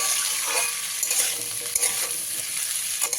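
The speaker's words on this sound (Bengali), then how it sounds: "মিশিয়ে নিয়ে সবজিগুলো আমি ভালো করে ভেজে নিই" Mixed vegetables with salt fry in a kadai, a steady close sizzle with soft stirring scrapes and clinks running throughout, no voices.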